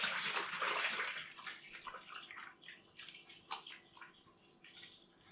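Thick, syrupy homemade white wine heavy with sugar is poured, giving a faint, close trickling and splashing stream that surges at first, then breaks into uneven gurgles and drips.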